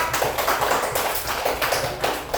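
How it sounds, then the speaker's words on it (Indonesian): Applause from a third-grade class for a group of students during an Indonesian-language lesson, a short burst of quick, light claps, close and moderately loud. "tepuk tangan untuk kelompok 4"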